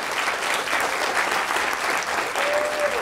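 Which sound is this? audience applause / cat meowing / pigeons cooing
audience applause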